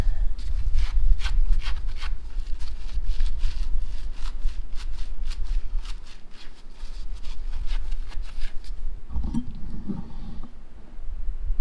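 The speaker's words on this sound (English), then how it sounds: "So let's go ahead and clean the shaft up. Use our Scotch-Brite pad." A Scotch-Brite pad scrubs the shifter shaft of a 2007 Sportster 1200 during seal replacement, giving close, steady repeated rubbing strokes with a short pause partway through.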